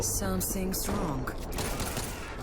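Pistol shots crack in the zombie video game World War Z, a few sharp bursts mixed with game noise, while a voice talks at the start.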